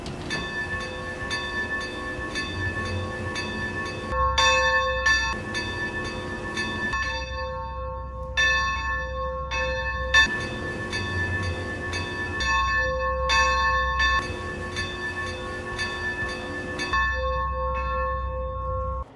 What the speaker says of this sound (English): this kind of reminds me of Morning Bowler number 43's bell